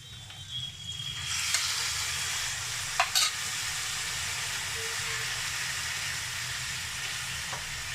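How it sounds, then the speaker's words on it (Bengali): Boiled taro leaves go into a hot pan and fry with a sudden, loud, sustained sizzle and hiss, punctuated by a few stirring clicks, with no one speaking. "এবার দেব এই কচু সেদ্ধটা"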